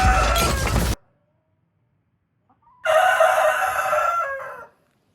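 Two loud, close rooster crows ring out on a farm, one cut short at the start and a second full crow after a silent gap, each rising and drawn out before fading.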